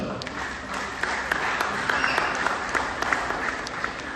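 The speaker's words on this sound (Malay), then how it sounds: "Kita satu tepukan lah untuk diri tuan-tuan lah." Applause from the audience at a school PTA annual general meeting in Malaysia, a continuous wash of clapping with sharper individual claps standing out, a speaker's voice faintly mixed in.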